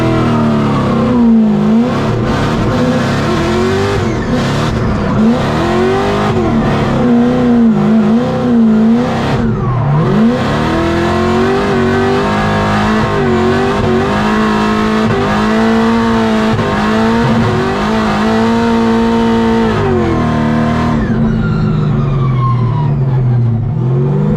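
A drift car being tested for Formula Drift Atlanta revs hard and spins its tires: a loud, close engine wail that rises and falls in pitch without pause, then drops off near the end.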